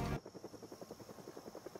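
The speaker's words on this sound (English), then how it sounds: "Is that a helicopter?" A helicopter flies over in the zombie survival video game Project Zomboid, making a faint, steady, rhythmic rotor chop that pulses evenly throughout with no voices.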